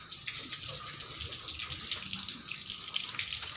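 Water pouring steadily from a tap into a bucket in a cattle shed, a continuous close rushing splash that stays even throughout with no speech.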